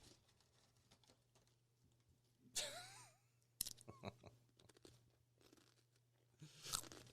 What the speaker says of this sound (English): I'm finishing the chip.